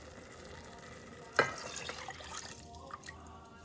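Cornstarch-and-water slurry poured into simmering vegetable Manchurian gravy, a sudden splash followed by soft bubbling, stirring and gentle sizzle in a quiet kitchen.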